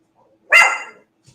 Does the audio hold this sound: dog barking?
yes